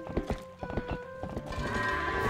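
Horse hooves from riding in the Zelda: Twilight Princess video game: a fast, rhythmic run of clip-clop hoofbeats that fades into a steadier rushing tone, with no talk.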